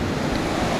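Bhangge waterfall in Rasuwa, a steady dense roar of falling water, loud and continuous with no voices.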